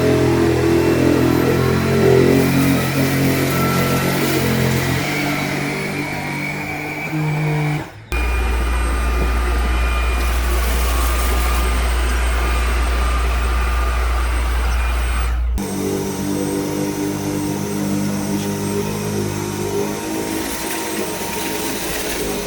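A cordless vacuum cleaner runs steadily at close range with a constant motor whine, briefly cutting out and restarting to a deeper, louder hum before returning to the original pitch, with no talk.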